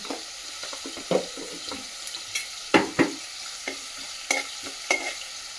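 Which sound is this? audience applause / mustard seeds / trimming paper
mustard seeds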